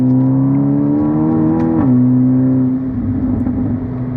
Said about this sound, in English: The sound from the car, I mean, classic 2-liter Volkswagen sound